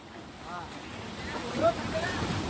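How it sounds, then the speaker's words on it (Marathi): A roadside waterfall at Kudgaon rushes as a steady, broad wash of falling water, with wind buffeting the microphone and a voice speaking briefly over it. "हे आहे बघा हा रोडच्या बाजूलाचा वॉटरफॉल आहे."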